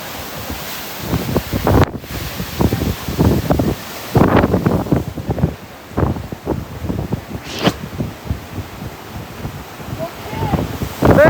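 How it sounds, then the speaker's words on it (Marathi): Wind gusts across the microphone at the hilltop Kondeshwar temple near Lonavla, a steady rough rushing that swells and fades while people talk nearby throughout. "वरच हवा आहे"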